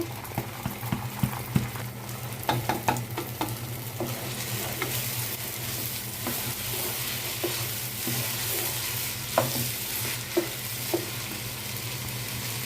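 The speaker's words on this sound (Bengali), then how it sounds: "এখন আমি পোলার চালগুলো ঢেলে দিব এখানে এক কেজি পরিমাণ পোলার চাল আছে" About a kilo of polao rice tipped into a pot of lightly fried onion and stirred, giving a low continuous sizzle with scattered scrapes and clinks of the spoon against the pan.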